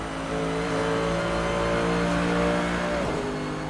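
A Mercedes GT3 race car in Assetto Corsa drives at the Nordschleife, its engine droning loud and steady with rising and falling tones, then a sharp drop in pitch near the end as it shifts or lifts off.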